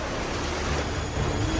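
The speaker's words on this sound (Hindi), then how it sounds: "समुद्री लहरें लगभग 40 फीट ऊंची उठकर बहुत तेज वेग में मंदिर की ओर चल पड़ती हैं" Stormy sea waves about forty feet high surge toward a seaside temple, a dense, continuous roar of surf and wind with no break or voices.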